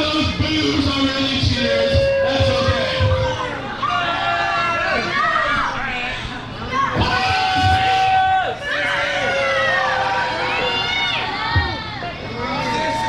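A wrestling arena crowd jeers and boos steadily at the Burger King character, a loud, dense roar of voices with scattered shouts running throughout, commentary talk over it.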